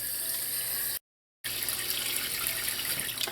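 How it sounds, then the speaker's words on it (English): Tap water runs steadily into a basin or bowl, a continuous hissing gush that cuts out briefly and resumes, close and loud with no talking, as water is drawn after cleaning a chicken. "you're going to fill that basin or bowl with water."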